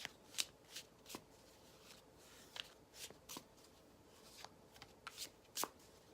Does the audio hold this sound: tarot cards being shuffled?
yes